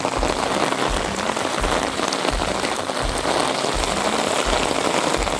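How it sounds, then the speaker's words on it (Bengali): Heavy rain pouring down, a dense unbroken patter on surfaces all around, loud and steady throughout with no voices. "ওরে বাবা এই কি বৃষ্টি শুরু হলো গো জামা প্যান্ট সব ভিজে গেল"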